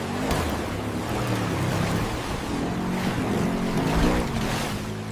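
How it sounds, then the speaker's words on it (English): AI-generated Jeep tearing through mud on an off-road rally course, a steady loud engine roar with churning rumble held continuously throughout. "The sound effect of this Jeep is pretty interesting"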